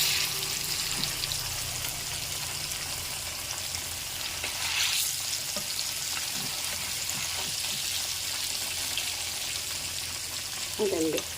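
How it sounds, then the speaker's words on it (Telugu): Fish frying in oil over a low flame gives a steady, dense sizzle that lasts throughout, with a brief louder flare midway and a faint clink near the end. "ఆయిల్లో చక్కగా ఉడుకుతుంది"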